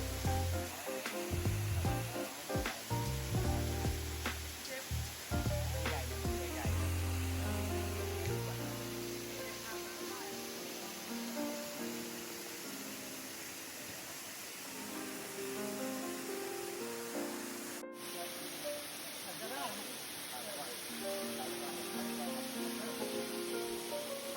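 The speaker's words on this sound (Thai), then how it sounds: "ถึงน้ำตกนี้หัวหน้าเราก็ได้ลงเล่นน้ำตกเต็มๆเลยครับ" Waterfall on the Phu Toei forest trail in Suphan Buri, Thailand, which hikers wade into: a steady, broadband rush of falling water heard close, mixed with background music throughout.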